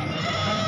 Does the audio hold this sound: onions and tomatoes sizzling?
no